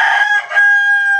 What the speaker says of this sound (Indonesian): Itulah suasana kampung. Bunyi riuh ayam.